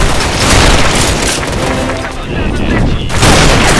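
Grenade explosions in the shooter game Special Force 2 make a loud, dense run of booms and gunfire-like blasts that fill the whole clip, with a brief lull midway before the noise swells again.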